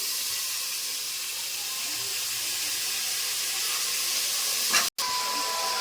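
Washed vegetables frying in a pan, a steady loud hiss of steam and sizzle throughout with a brief clatter near the end, no talk.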